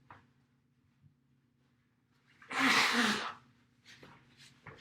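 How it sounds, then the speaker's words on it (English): A person blows their nose once, a loud, breathy honk lasting about a second in a quiet room with a steady low hum, followed by a few faint sniffs and small movements. "I'm going to blow my nose."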